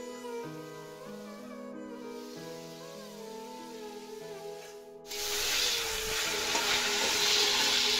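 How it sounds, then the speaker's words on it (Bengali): Salt-and-turmeric-rubbed prawns, about 200 grams, frying in hot oil. Melodic music plays alone for the first few seconds, then a loud, dense sizzle bursts in and holds steady under the music to the end. "200 গ্রাম মতন চিংড়ি মাছ আমি বেছে নুন হলুদ মাখিয়ে রেখেছিলাম, এটা আমি ভেজে নেব।"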